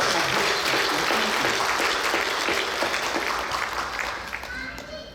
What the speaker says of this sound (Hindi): मैं आप लोगों के लिए पहले एक बार ताली बजा रहा हूं।